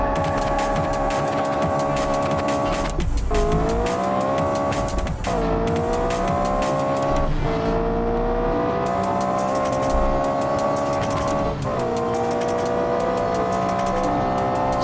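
A supercar in the BeamNG.drive game driven with no traction control or assists, engine screaming at high revs with repeated gear shifts and dips, tires squealing under hard cornering, loud and continuous.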